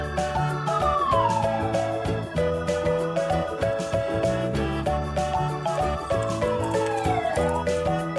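A toy ambulance siren wails with repeating sweeping tones alongside a steady electronic jingle, loud and close, with no talking.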